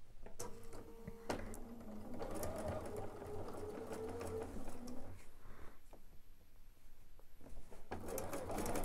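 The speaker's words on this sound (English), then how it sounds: "And then we're going to start sewing from this end all the way down" A dual-feed sewing machine stitches quilt binding, its motor whirring in a steady, close run with rhythmic needle ticking that rises and dips slightly as the fabric feeds through.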